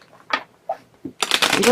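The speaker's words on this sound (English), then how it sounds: "I'm hearing that the cards are shuffled" Tarot cards shuffled by hand, a few soft separate riffles at first, then a dense, louder continuous rush of cards flicking together near the end.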